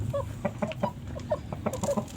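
Chickens in a rooftop coop on a house cluck in a quick, irregular series of short calls, close and clear against a soft background.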